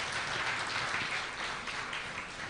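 Event audience applauding and cheering steadily throughout, a dense wash of clapping with no break.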